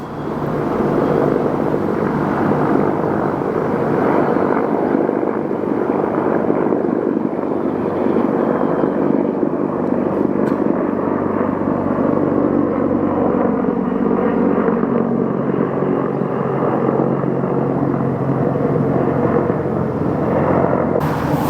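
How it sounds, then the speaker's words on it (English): A helicopter drones overhead, a loud, steady rumbling roar that holds continuously and close for over twenty seconds. "There goes a helicopter"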